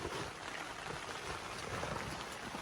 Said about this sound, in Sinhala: අනික එක වහිනවා හොඳටම.